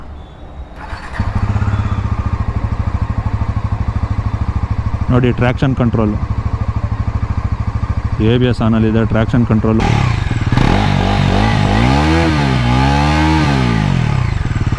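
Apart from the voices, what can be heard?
Bajaj Pulsar NS400Z motorcycle engine starting and running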